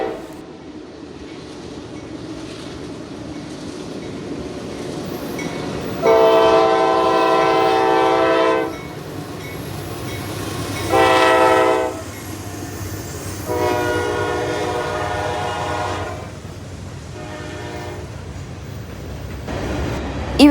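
Norfolk Southern freight train NS 334, trailing an Erie Heritage unit, rumbles past near Oak Harbor, Ohio, sounding several loud horn blasts: a long one, a short one, then another long blast and a brief final toot.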